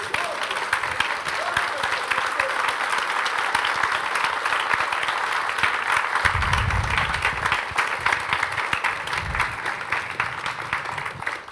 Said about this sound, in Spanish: Un aplauso santo al Señor.